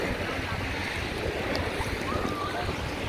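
Sea waves wash continuously close by in an open-water swimming spot, a steady broadband surf roar with wind buffeting the microphone throughout.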